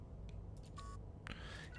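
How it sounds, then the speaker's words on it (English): Phone keypad dialing in the video game Shadows of Doubt, with faint quick electronic tones and beeps over a low background hum, no talking. "We're gonna go ahead and place another phone call."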